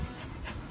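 A dog panting, quick soft breaths close by in a brief burst, with no talking over it.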